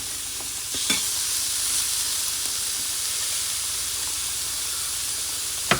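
A burger patty cooks on one side with a steady, even sizzle and hiss, broken only by a couple of faint clicks.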